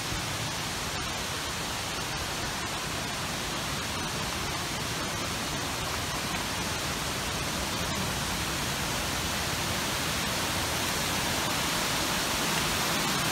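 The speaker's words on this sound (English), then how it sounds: "Ah, the waterfall." A waterfall running strongly, heard as a loud, steady, broadband rush of falling water that continues unbroken throughout with no voices over it.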